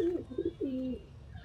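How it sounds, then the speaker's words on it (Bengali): A male racing pigeon, bred for a 45-kilometre tournament, coos in a few short, close, soft bursts, ending with a longer rolling coo. "এই যে এটা একটা নর কবুতর"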